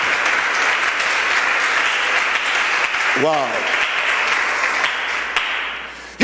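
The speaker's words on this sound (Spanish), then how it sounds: "Denle un aplauso fuerte a Jesús." A church congregation applauds loudly and continuously, a dense wash of clapping filling the room for several seconds while a voice exclaims briefly partway through.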